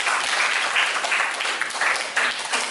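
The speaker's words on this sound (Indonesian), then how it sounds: "tepuk tangan buat kita semua" A classroom group bursts into applause during a teaching practice session, bright rapid clapping from many hands that stays loud and continuous, with a few sharper claps poking out of the wash.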